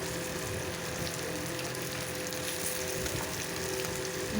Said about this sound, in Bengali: এদিকে মাছ ভাজাও হয়ে গেল